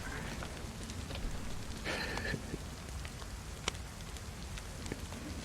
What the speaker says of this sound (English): raining sideways now